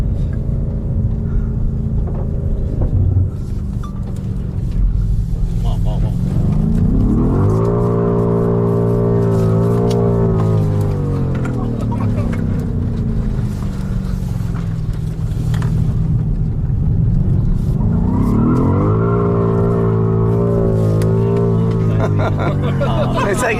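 A 625 hp BMW M5 Competition revs hard in second gear with two-wheel drive while spinning its tires to warm them before a launch, engine rising and falling in two long loud surges, with a voice talking over it.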